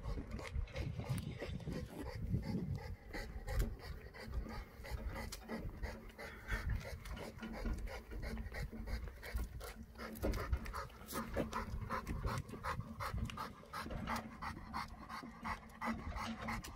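An American bully dog pants steadily and close up in fast, rhythmic breaths, continuing without a break through the whole stretch.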